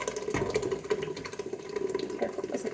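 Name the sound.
pouring canned tomatoes into blender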